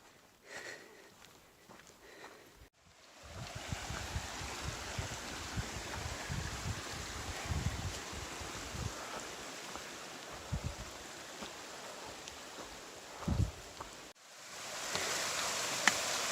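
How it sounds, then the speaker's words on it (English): A waterfall on the Appalachian Trail rushes in a steady, faint wash of water, with a few soft footsteps and rustles nearby. "That is one beautiful waterfall,"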